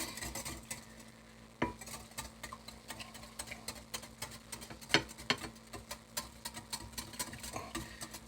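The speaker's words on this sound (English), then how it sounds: "We're going to whisk all these into our yeast concoction here." Whisk stirring eggs and buttermilk into a yeast mixture for holiday beignets, a busy, steady clatter of the whisk against the bowl with a few sharper knocks, continuous and close with no talking.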